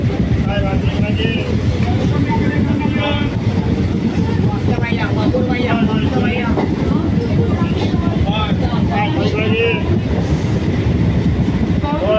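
Continuous rumbling train noise with rhythmic clatter throughout, loud and close, while voices talk over it.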